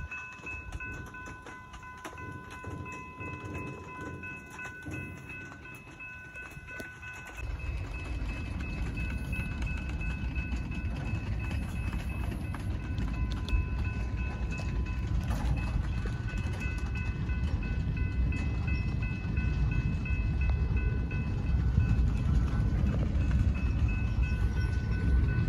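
BNSF manifest freight train on the Transcon Emporia subdivision starting to roll: after a quiet stretch with a steady high tone, a low rumbling roar of cars and wheels rises and holds, growing slightly louder through the end.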